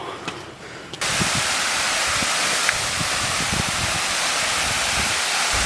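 The constant roar of a waterfall crashing onto rocks below in a forest, a broad rushing wash that rises abruptly and then holds steady.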